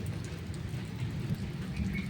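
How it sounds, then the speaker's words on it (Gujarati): Steady rain pours down during a thunderstorm over waterlogged farmland, a dense continuous hiss with a low rumbling roar underneath, loud and unbroken throughout with no voices. "આજે પણ આપણે ગાજવીજ સાથે વરસાદ ચાલુ થયો"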